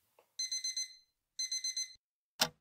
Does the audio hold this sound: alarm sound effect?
yes